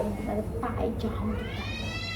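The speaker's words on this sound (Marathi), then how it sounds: "माझ्या फोनमध्ये जसं मांजरीचा आवाज येत असेल असं मला डाऊट येतो" A cat meows with a drawn-out, rising tonal call near the end, heard over people talking at home.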